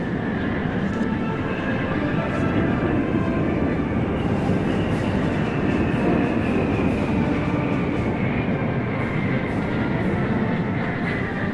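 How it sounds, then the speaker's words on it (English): Military transport planes fly overhead in formation at a grand military parade, giving a continuous, dense engine roar that holds steady and loud throughout with no pauses. "This is the echelon of the military transport planes."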